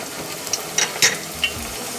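Egg rolls fry in hot oil with a constant soft sizzling hiss. A few brief louder crackles and clinks stand out.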